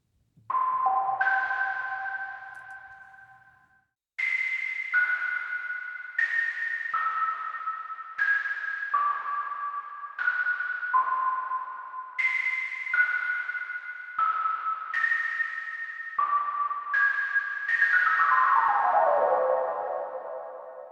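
Airdrops patch on a Korg Multi/Poly Native synth: a series of bright, bell-like synth tones in descending two-note figures with whole-tone steps, each note ringing and decaying, ending in a thick cascading fall, heard alone.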